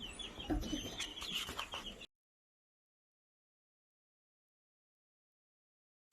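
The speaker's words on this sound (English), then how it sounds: "we're checking on the chickens" Young chickens in a small pen give a brief burst of close chirping and soft clucks for about two seconds, followed by silence.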